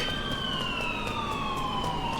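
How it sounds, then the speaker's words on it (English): Police sirens in the video game GTA IV with the LCPD:FR mod, a continuous wailing tone sweeping slowly downward, fairly loud against a constant background rumble. "Because there's sirens that way, and there's sirens this way"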